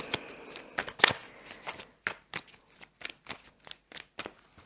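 A deck of playing cards is shuffled and riffled, then dealt out in a quick, evenly spaced run of crisp snaps, close and clear.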